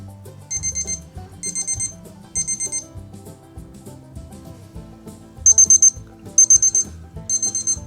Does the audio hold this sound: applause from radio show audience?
no